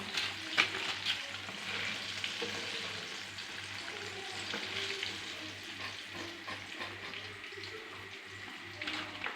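Boneless chicken pieces deep-frying in hot oil for crispy, KFC-style fried chicken, giving a steady, close bubbling sizzle over a low hum throughout, with no one talking.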